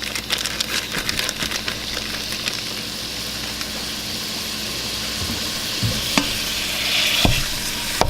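Meat sizzles and crackles steadily in a pan over high heat, with scattered pops and scraping stirs, close and moderately loud, no talking.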